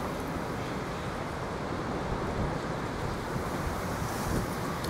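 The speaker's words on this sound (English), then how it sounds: "And it's very windy here." Steady wind blows through an outdoor park in Vlaardingen, a constant broadband rush buffeting the microphone at a moderate level without letup, with no talking.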